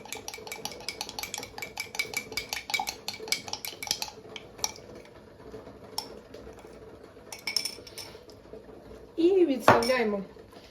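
Spoon stirring sauce with honey in a bowl, a steady run of rapid clinks and scrapes against the dish, close and fairly loud, pausing briefly, then a louder burst of clattering near the end.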